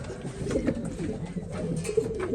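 Pigeons coo and murmur steadily at close range inside a loft in Adana, a soft layered warble of several birds with faint rustling underneath.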